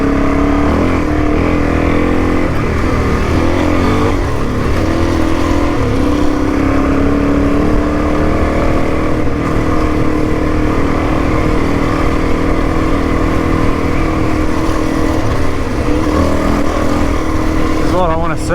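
Motorcycle ridden solo across Simpson Desert sand dunes, its engine droning steadily and loudly throughout with shifting revs and a rising pitch sweep midway, heavy wind rumble underneath.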